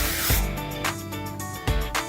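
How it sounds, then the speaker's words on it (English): Dry texture hair spray hisses from an aerosol can onto a section of hair in short bursts, loud and close, with a quiet pause between sprays. "spray that whole section with the Dry Texture Spray"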